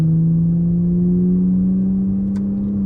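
A Toyota Supra A90 runs steadily through its gears in a daily-driving setting, a smooth, continuous engine drone with a faint whirring edge and no clear breaks, heard alone and close.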